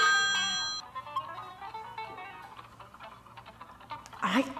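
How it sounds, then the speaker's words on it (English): A phone ringing with a short electronic tone sequence at the start that quickly cuts off, followed by quiet room noise and faint clicks. "My phone ringing."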